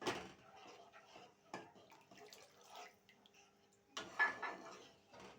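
Water is poured into a pan of fried spice paste for a peas curry, giving faint, brief splashing and hissing bursts with light clinks of utensils against the pan.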